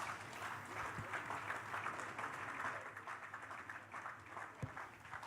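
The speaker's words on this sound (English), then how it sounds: "A round of applause." Audience applause at an African international housing show, a steady spread of clapping from a large crowd lasting several seconds, moderately loud and without talk over it.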